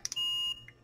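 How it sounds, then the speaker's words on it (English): A single short, high-pitched electronic beep from a multimeter continuity test during repair of a Columbia 2692 8-track player sounds cleanly after a couple of faint clicks, quiet and close. "So I want to make sure this beeps."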